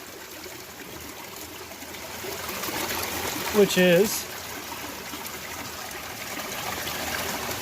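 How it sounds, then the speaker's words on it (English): A small creek flows out of a cave in a canyon, giving a steady, soft trickling wash throughout, with a brief spoken phrase partway through. "So we have a little creek here,"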